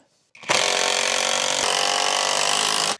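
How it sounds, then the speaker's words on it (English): A power drill drives screws into 2x4 spacers for a wall-mounted workbench, one loud, steady, close whir lasting a few seconds after a brief start, with no talking. "I'm going to basically just put a couple of screws in here to hold it in position"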